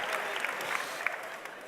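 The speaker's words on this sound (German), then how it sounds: "give it up for Austria and Italy" An audience applauding for Austria and Italy at a conference session, a short burst of scattered hand claps from a modest crowd, moderately distant.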